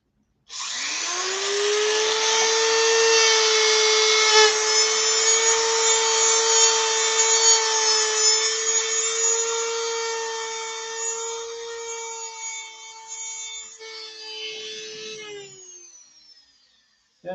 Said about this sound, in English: Let's use this deburr.